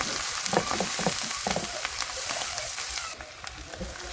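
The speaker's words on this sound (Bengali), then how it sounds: "চিংড়ি মাছগুলো ভেজে নেব, দিয়ে দেবো সামান্য একটু হলুদের গুঁড়া।" Small shrimp fry with turmeric in a pan, giving a close, crackling sizzle broken by irregular spatters and stirring scrapes that ease slightly toward the end.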